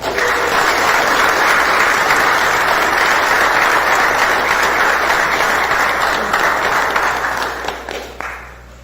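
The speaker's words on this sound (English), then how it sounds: "So you guys can go ahead and give them a big round of applause." Sustained audience applause at a committee meeting, a dense wash of many hands clapping loudly and steadily, then thinning out and fading over the last second or so.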